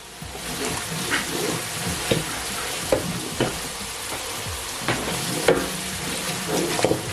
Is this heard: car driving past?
no